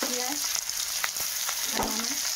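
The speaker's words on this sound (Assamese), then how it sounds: "এতিয়া মই সেই মাছ ভজা কেৰাহীটোতে এইখিনিত তেল দি দিলোঁ" Oil sizzles in a wok used for frying fish, a close, steady crackling hiss with a few sharper pops over its short span.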